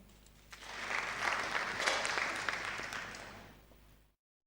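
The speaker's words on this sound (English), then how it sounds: "Round of applause for Ms." Audience at a gender representation dialogue applauds a panel member, a fairly faint patter of many hands that rises, holds for a few seconds, then tapers off into silence.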